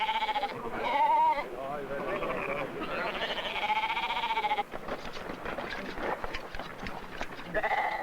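Sheep bleat repeatedly at a summer round-up on a farm, several animals calling close by in overlapping waves, with a narrator talking over much of it.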